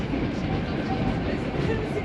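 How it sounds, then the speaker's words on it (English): A London Underground Jubilee line train rumbles steadily with a loud, close, continuous low roar and faint rolling clatter, no distinct breaks over the short stretch. "it's a bit like the Jubilee line trains, which sound like this"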